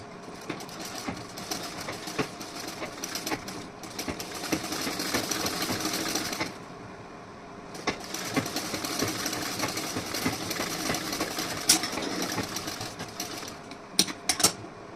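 A sewing machine stitching fabric for a decorative neckline runs in close, steady whirring bursts, pausing briefly midway and again near the end, with a few sharp clicks and no talking.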